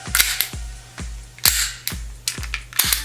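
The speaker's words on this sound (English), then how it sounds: "it gives off a nice sound when you release the slide" Metal slide on a WE Bulldog compact airsoft pistol, a PX4 Sub Compact replica with metal outer barrel, racked and released repeatedly, giving about six sharp close metallic clacks, each with a brief rattling follow-up.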